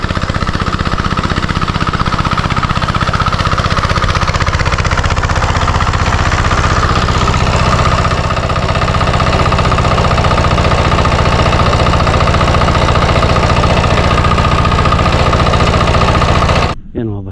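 A small water pump engine, smoking, runs steadily and loudly throughout, a constant mechanical drone with rattling texture, cutting off abruptly at the very end.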